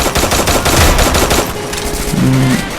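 Rapid automatic gunfire from a mobile shooter video game rattles in a loud, dense burst for about a second and a half, then eases into quieter game noise with a brief electronic tone near the end.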